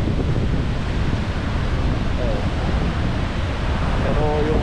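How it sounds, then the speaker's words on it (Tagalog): Strong monsoon wind buffets the microphone with a constant loud roaring rush, with faint chirps briefly audible beneath it. "lakas na ng hangin"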